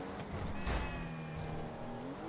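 A Porsche engine in GTA Online hums steadily at moderate revs, a sustained tonal drone with a brief rushing swell partway through and a slight pitch shift at the end.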